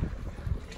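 A jet ski runs out on open water, a low, steady engine rumble at moderate distance, mixed with gusty wind buffeting the microphone.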